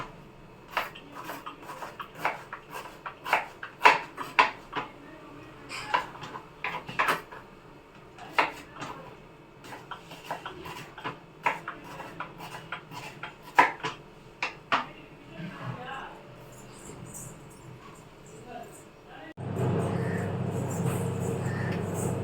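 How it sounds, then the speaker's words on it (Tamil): Onions being thinly sliced with a knife on a board for a simple kara kuzhambu, a quick run of near, sharp chopping taps in an uneven rhythm, then other kitchen clatter and a steady loud hiss near the end. "நல்லா வெங்காயத்தை மெல்லிஸாக கட் பண்ணிடுறேன்."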